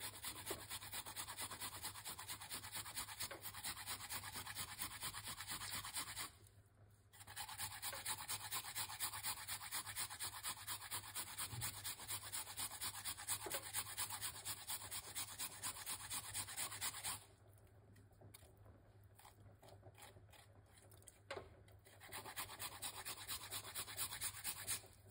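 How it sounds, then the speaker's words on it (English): Ginger being grated in a steady, close scraping rhythm that runs continuously with two brief pauses, no voices present. "Grate the ginger."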